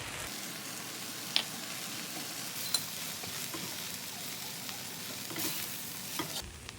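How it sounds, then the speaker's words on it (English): Vegetables and garlic sizzle steadily in a pan as a base for shrimp and scallop chowder, a continuous soft frying hiss with a couple of sharp clicks from stirring utensils against the pan. "These vegetables have been sauteing for about 5 minutes."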